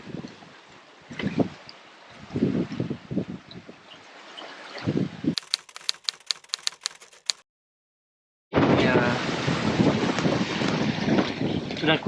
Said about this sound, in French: C'est le vent qui vient de se lever.